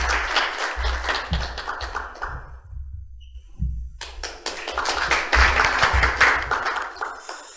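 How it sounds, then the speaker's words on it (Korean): Applause breaks out at a vision proclamation ceremony in Asan, Korea, as a co-chair of an environmental movement group is welcomed to the stage. Brisk clapping mixed with tapping sounds fills the room, fades briefly midway, then swells again strongly. "박수로 맞이해 주십시오."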